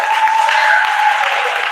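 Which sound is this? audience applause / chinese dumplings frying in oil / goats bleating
audience applause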